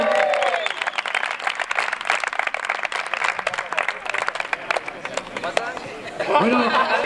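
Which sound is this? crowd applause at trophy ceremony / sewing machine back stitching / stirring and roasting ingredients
crowd applause at trophy ceremony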